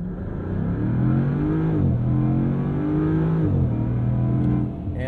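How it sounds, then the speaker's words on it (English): A 2022 Land Rover Defender 90 V8 launching hard from a standstill, its engine note rising loud and steady as it pulls away, heard from inside the cabin without speech. "We don't have launch control, but it'll still launch like hell."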